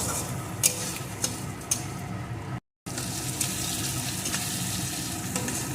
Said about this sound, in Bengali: এখন এগুলোকে সুন্দর করে ভেজে নেব যতক্ষণ না আদা পেঁয়াজ রসুনের কাঁচা গন্ধটা দূর হয়ে যায়